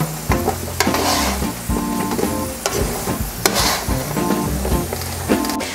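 Potato pieces browning in a hot pan sizzle continuously while a thin-edged fish spatula flips them, giving repeated sharp scrapes and clacks against the pan at irregular intervals.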